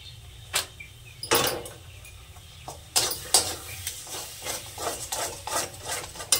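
Masala with curd for vegetarian paneer being stirred and sautéed in a pan: a low steady sizzle under repeated scraping strokes of a spoon against metal, close up, with no one talking.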